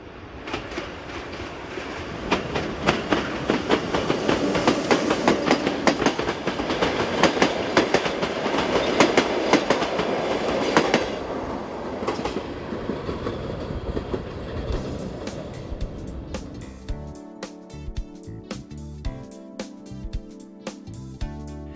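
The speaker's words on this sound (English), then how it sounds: "The 1510 service from Košice approaches the camera powered by 163106." Passenger train to Kiev hauled by electric locomotive 163106 passing close by in Slovakia, a loud sustained rumble with rhythmic clickety-clack of wheels over rail joints that fades as the coaches roll past.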